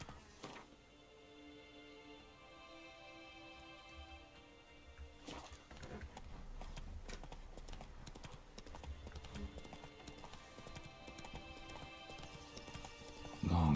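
Horse hooves clip-clop steadily during riding in the video game Witcher 3, with a brief whinny near the start and game music and ambience running underneath.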